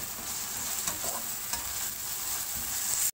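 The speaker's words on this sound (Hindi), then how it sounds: "अब हम इसमें डालेंगे कटे हुए टमाटर और कटी हुई हरी मिर्च डाल देंगे इसमें और अच्छे से इसे मिक्स कर लेंगे।" Onion, chopped tomatoes and green chillies sizzle gently in a pan as a spoon stirs them, soft scraping strokes over a steady frying hiss, close and fairly quiet with no talking.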